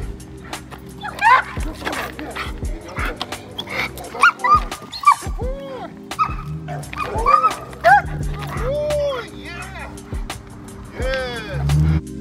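Protection dog barking during bite training, repeated loud close barks in uneven bursts with whimpers and yips between them, while someone talks over the dog.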